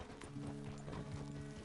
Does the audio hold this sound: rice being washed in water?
no